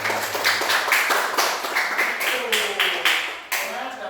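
Children in a primary-school classroom clap together for their class, a series of quick, fairly close claps lasting a few seconds with voices talking over them.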